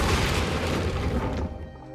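A Confringo fire spell blast in Hogwarts Legacy, a loud booming burst with a crackling roar that carries through the first second and a half, then drops to a quieter tail.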